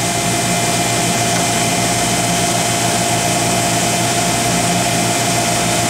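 Vacuum pump roughing the chamber of an Oxford Plasmalab 800 Plus PECVD system: a loud, steady mechanical roar and hum that continues evenly throughout, no talking.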